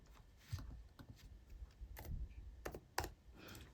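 Quiet clicks from a computer keyboard as a number is typed, a few irregular keystrokes close by with a louder tap near the end and no voice.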